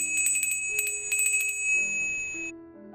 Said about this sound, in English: I believe that bell is for you, nurse.